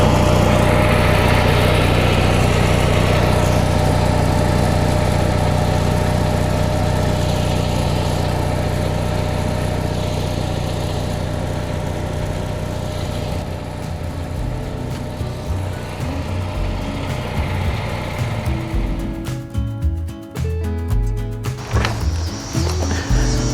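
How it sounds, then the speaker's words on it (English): An RV generator fitted with a Camco Gen-Turi exhaust system runs steadily nearby, a loud even engine drone with a constant hum that later turns rougher and choppier. "So now I have the generator running."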